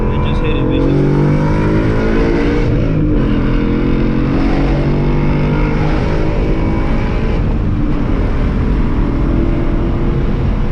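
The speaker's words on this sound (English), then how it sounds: "Let off the gas, like I said, rev it up a little bit, and then again, hit the gas, up." A car engine revs and drones loudly while downshifting through the gears, with throttle blips and shifts heard from inside the cabin, and a person talks throughout.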